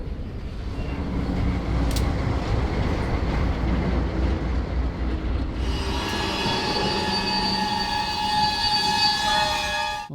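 A freight train rolls along the rails in Mexico with a loud, steady rumble and rattle of wagons nearby, and high metallic wheel squeals rising partway through and holding until the end.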